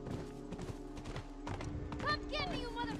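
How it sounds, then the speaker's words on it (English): A horse galloping in the video game The Last of Us, rhythmic hoof clip-clops under steady background tones, with someone talking over the hoofbeats. "This horse doesn't need any encouragement to go."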